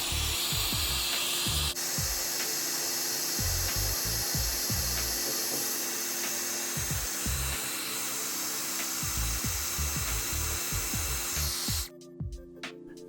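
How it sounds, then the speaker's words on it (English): A hair dryer blows hot air onto the back cover of an Apple Watch Series 8 to soften the adhesive. It gives a steady, close whoosh with irregular low knocks and bumps from handling, then stops abruptly near the end. "Use a hair dryer to loosen the adhesive under the back cover."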